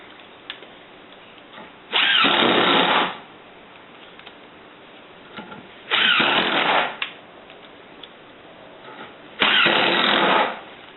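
Screws being driven into a wooden faceplate with a power drill, three separate bursts of loud whirring a few seconds apart, each about a second long, with quiet handling sounds between.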